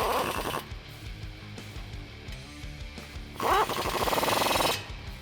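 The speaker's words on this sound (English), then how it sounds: "we're going to use a 14mm socket to secure that" An impact tool with a 14mm socket drives an exhaust pipe bolt on a Toyota Tacoma in two loud, close, buzzing rattling bursts separated by a quieter pause.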